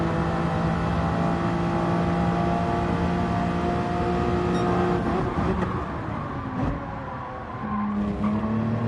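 A race car in a video game drives hard with engine whine, a gear change and tire squeal through a corner, then the revs build again, loud and continuous with no voices.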